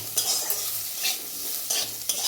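Potato, onion and eggplant fry in a pan, a close steady sizzle broken by several bursts of stirring scrapes at a loose, uneven rhythm.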